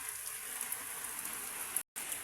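Overnight rain pours steadily outdoors near sheltering chicks, an unbroken hiss of drops that cuts out abruptly for a split second before resuming at the same level.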